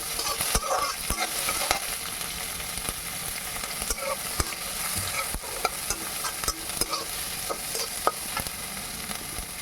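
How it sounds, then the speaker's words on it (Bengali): Chopped onions fry in a pan while being stirred, a continuous dense sizzle broken by frequent sharp scrapes and clicks of the spoon, close and steady, with no talking. "পেঁয়াজটা দিয়ে ভালো করে নেড়েচেড়ে ভেজে নেব।"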